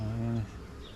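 Honey bees buzz in a brief, close, loud tone during a beehive inspection, which cuts off after about half a second and leaves a faint background hum.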